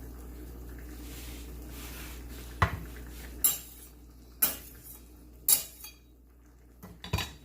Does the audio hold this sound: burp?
no